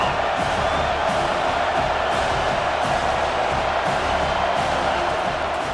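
Home crowd in a college football video game roars steadily on third down in a TCU dynasty, a dense, continuous wall of cheering and whooping that holds at an even, loud level throughout.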